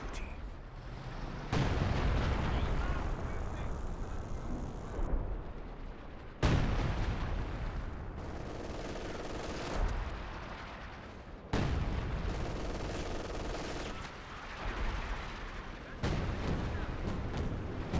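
Repeated deep artillery blasts and rumbling explosions in Company of Heroes 2 as a smoke barrage lands, loud bursts separated by short gaps of quieter battlefield noise.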